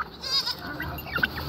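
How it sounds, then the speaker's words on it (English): Several goats bleat close by on a farm, wavering cries overlapping in a short burst, with a brief higher call near the end. "There's a mob of goats behind me."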